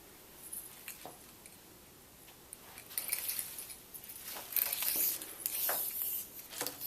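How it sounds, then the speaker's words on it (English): A tape measure slips off a table where a tote bag pattern is pinned to fabric, giving light rattling and clattering bursts that grow busier in the second half, close and fairly quiet with no voices. "Pesky little tape measure got away from me"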